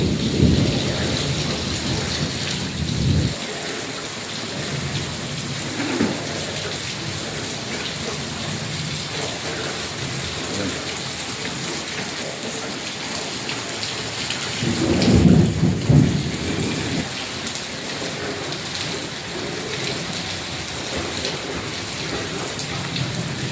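Heavy rain pours steadily during a thunderstorm, with deep thunder cracks rumbling loudly twice, close and with no voices.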